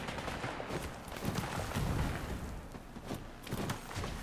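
Gunfire in the video game Bloodhunt: a dense, ongoing volley of shots and booms at moderate loudness, continuous through the moment with no talk over it.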